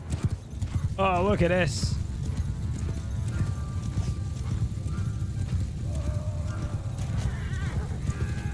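Cavalry horses charge in the Mount & Blade 2: Bannerlord game, with hooves clip-clopping over steady rumbling battle noise and a whinny early on, while someone talks over it.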